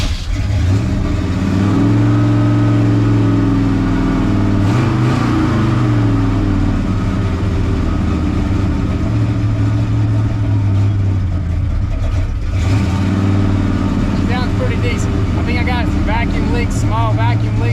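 A cold-blooded 1965 Lincoln Continental with small vacuum leaks cranks and catches, its big engine revving up and settling in loud rising and falling surges, with someone talking briefly over it.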